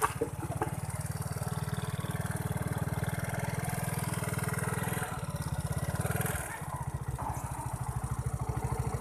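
Yamaha Mio motorcycle fitted with a King carburetor idles and revs close by, a steady low engine thrum with a brief dip and rough stutter partway before settling back into a pulsing idle.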